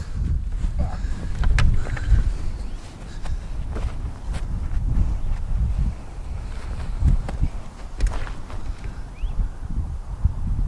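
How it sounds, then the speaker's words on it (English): Wind blowing outdoors on a golf tee, low gusty rumble buffeting the microphone throughout, with a few scattered footsteps and light knocks nearby. "A little bit of wind's not helping anything, is it, Ransom?"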